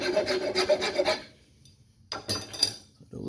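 A rasp or file works wood to fit a rifle's take-down sleeve, giving a run of rhythmic, scratchy strokes close up, then a pause and a second short burst of rasping.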